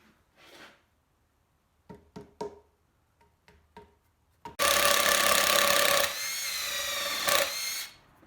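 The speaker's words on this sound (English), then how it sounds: "this is a 5/16 drill bit" A power drill fitted with a 5/16 bit bores into a mushroom log for reishi plugs, starting after a few light knocks with a loud, steady high whine and grind that holds for about three seconds before easing off.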